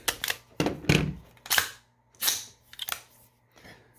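Metallic clacks and snaps of an AR-15 carbine being cleared, a BCM with a 16-inch barrel and mid-length gas system, come as about seven sharp, close mechanical clicks in irregular rhythm with short pauses between them and no talk.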